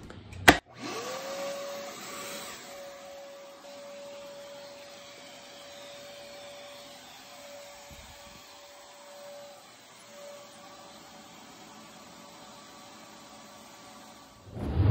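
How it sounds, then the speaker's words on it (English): A 1000 VA shop vac runs off an Arkpax Ark 1800W waterproof power station, starting with a sharp surge, then settling into a steady, loud whine and airy roar that holds for about fourteen seconds before cutting off. "Let's try to run shop vac"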